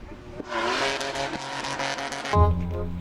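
Cartoonish car engine and tire noise from a red car driven in the Roblox game Fling Things and People, a steady buzzing drone lasting several seconds with a louder low surge near the end.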